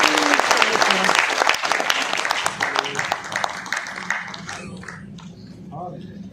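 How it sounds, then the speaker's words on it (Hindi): Loud, dense applause from a crowd at a political party's national convention in Mumbai, strongest at first and gradually thinning out, with some voices and murmuring underneath toward the end. "उन साथियों के लिए जोरदार ताली"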